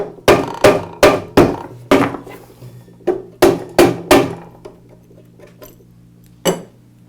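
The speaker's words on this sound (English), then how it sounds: "I'll strike the end of the motor shaft with a mallet until it comes free" Mallet blows on the end of the motor shaft of a Ridgid Tri-Stack OF5 air compressor: loud, sharp knocks in quick bursts of several, then fewer spaced strikes with ringing decay.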